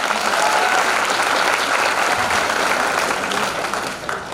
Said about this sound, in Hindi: एक बार आप सबसे हम अनुरोध करेंगे, जोरदार ताली कारक सर के लिए हो जाए